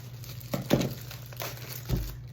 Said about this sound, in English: So first you have to open the cauliflower and cut off the leaves.